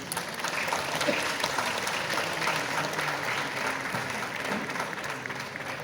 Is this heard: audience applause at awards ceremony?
yes